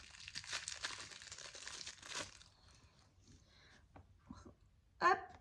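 Packaging of a small gift from an Action advent calendar being torn open by hand: close, busy crinkling and ripping for a couple of seconds, then sparse quieter rustles and a brief sharp sound near the end.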